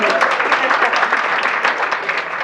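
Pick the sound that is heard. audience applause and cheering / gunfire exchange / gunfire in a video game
audience applause and cheering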